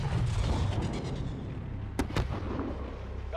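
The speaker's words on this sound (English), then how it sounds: "Fire a flare from the launcher on the roof." A flare fired from a rooftop launcher in Call of Duty: Modern Warfare's Embassy mission, heard as a sharp loud launch over rumbling battle noise, followed by a second sharp crack.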